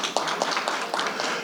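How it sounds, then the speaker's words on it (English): Applause and clapping from a community center gathering for a staff member, a steady, dense patter of many hands filling the room, fairly loud and continuous. "Let's give him a big round of applause"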